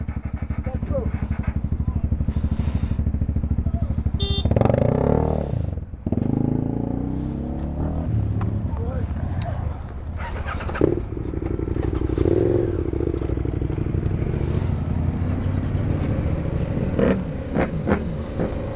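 Motorcycles roar past at speed, engines rising and falling close by, with people talking over the steady road noise.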